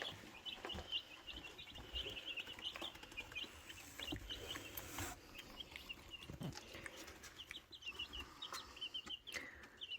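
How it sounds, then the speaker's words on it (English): Many chickens cluck and chirp softly in a confined space, a busy overlapping chatter with occasional rustles and bumps. "Lots and lots of chickens."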